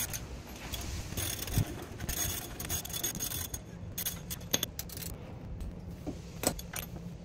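Brake caliper bolts, including a 21 millimeter bolt, are worked loose with a wrench on a car, giving faint, close metallic clinks, jangles and scraping taps in an irregular rhythm.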